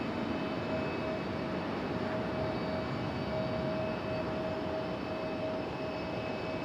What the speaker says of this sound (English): Looks like Breeze Airways landing over here on this side.